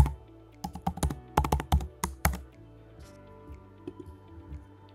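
Keystrokes on a computer keyboard while code is typed, a quick uneven burst of close, crisp clicks in the first half, then sparse faint taps over a low steady hum.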